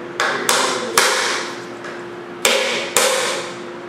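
A hammer taps a wooden duck silhouette down onto nails, five sharp close knocks in two uneven groups, each ringing briefly before fading.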